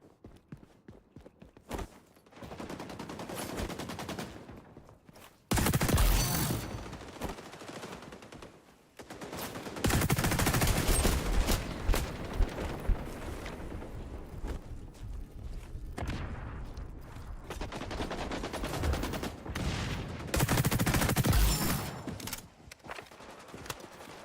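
Automated turret fire in the shooter XDefiant, with long, loud stretches of sustained rapid gunfire broken by short quieter gaps and scattered single shots.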